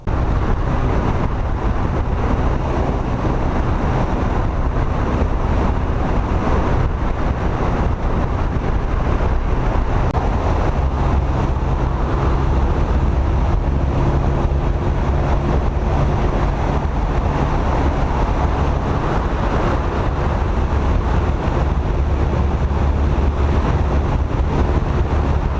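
A car drives along a road, a steady broad rumble of tyres and engine with wind noise, continuous and unchanging throughout.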